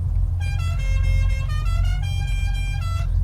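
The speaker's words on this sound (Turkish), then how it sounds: "Çalın kornaları." Several car horns honk together in the Unturned video game, a loud sustained chorus of overlapping toots running nearly three seconds over a steady low engine rumble.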